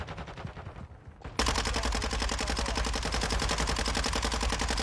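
Gunfire from a weapon in Warzone 2: after a brief quieter lead-in, a loud, sustained rapid-fire burst erupts and continues without pause to the end, close and dense.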